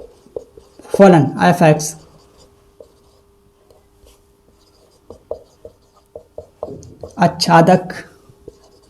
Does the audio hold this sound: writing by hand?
yes